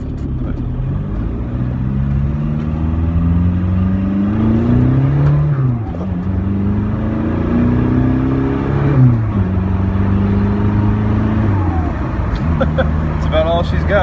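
A 2001 Volkswagen Jetta TDI diesel engine with an aftermarket exhaust pulls hard through several gears, its rising drone climbing then dropping at each shift, loud and close with wind and road noise underneath.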